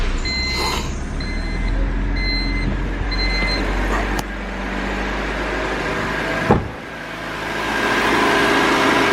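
An older Honda Civic engine running with a steady low rumble close by, while repeated beeping and a couple of sharp clanks sound over it.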